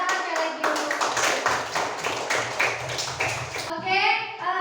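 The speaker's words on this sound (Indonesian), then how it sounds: "Oke, tepuk tangan sekali lagi." A class of schoolchildren claps hands together in a burst of rhythmic, roughly unison claps lasting several seconds, close and lively, with children's voices rising briefly at the end.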